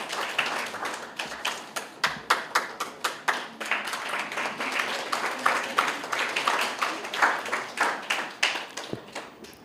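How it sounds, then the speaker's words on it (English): An audience at a corporate social responsibility presentation gives a round of applause: many hands clapping in dense, uneven bursts that swell and ebb over several seconds, fairly close and lively, with no talking over it. "Can we give you another round of applause?"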